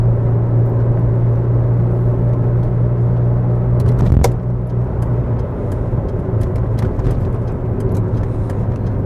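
Saab 9000 Turbo Classic engine holding a loud, steady low rumble, with a brief sharp surge around the middle as it revs and pulls away, continuous vehicle noise throughout.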